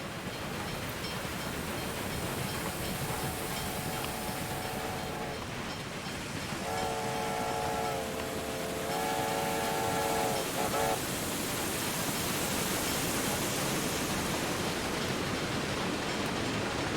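A train in the railway strategy game Railway Empire 2 sounds its horn in several held blasts over a continuous broad rumble and hiss of running.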